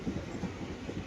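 Steady rumble of a moving train heard from inside a crowded ladies' carriage, a continuous low roar with faint rhythmic rattling throughout.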